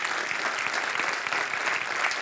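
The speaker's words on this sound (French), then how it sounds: "je pense qu'on peut l'applaudir" Audience at an evening talk breaks into sustained applause, a dense, even wash of many hands clapping close by for the whole stretch, with no voices over it.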